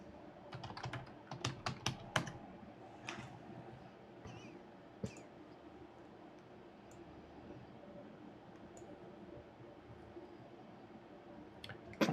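Computer keyboard typing while sorting a LEGO haul, with quick bursts of close key clicks, denser at the start and sparser later, under a steady background hiss.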